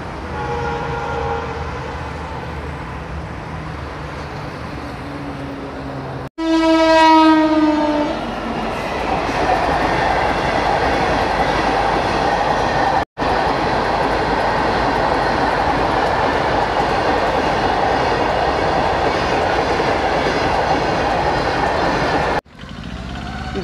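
A train passes near a hilly rural stretch on a pilgrimage walk from Vapi to Sanjan, opening with a loud horn blast that falls in pitch, then a long, steady roar and rumble of rail cars rolling by close and loud.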